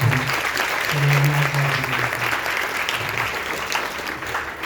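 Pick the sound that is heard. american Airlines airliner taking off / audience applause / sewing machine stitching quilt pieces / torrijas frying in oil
audience applause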